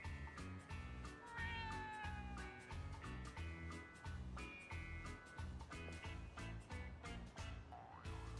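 A cat meowing in the video game Yakuza: Like a Dragon, with several drawn-out, wavering meows over rhythmic background music, quiet overall.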